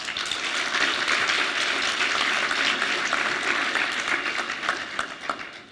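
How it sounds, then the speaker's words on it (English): Sustained applause from the audience at a high school equivalency graduation ceremony, a dense, fairly loud wash of many hands clapping without pause that eases slightly near the close. "Please give them a round of applause"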